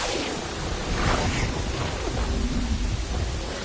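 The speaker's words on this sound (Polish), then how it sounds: "Magiczny deszcz." Dense magical rain in a video game falls as a loud, continuous roaring wash, with deep rolling thunder rumbling underneath throughout.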